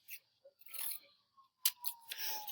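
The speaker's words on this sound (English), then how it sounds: "And I'm going to cut it out." A few quiet snips and crisp cutting sounds, like scissors working through paper, in short separated bursts.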